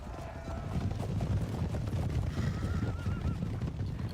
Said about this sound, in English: That's why the horses keep stopping.